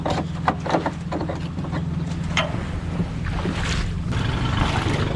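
Waves slap around a small boat with a Yamaha 25hp four-stroke outboard launched on a windy day, a constant churning wash mixed with heavy wind buffeting the microphone.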